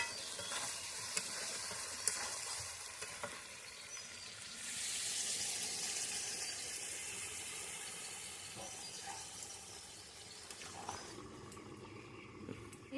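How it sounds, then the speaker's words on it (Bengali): Hot water poured into a pan of frying chicken skin, liver and gizzard, giving a loud, steady sizzle and hiss of steam that lasts throughout and fades a little near the end, with faint stirring clinks. "এবার আমি গরম জল দেবো"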